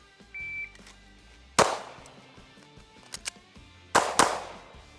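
Sharp, close pistol shots from a Smith & Wesson M&P Carry Comp crack out in a few separate reports: a single shot, then a quick pair a little later, with a faint beep early on.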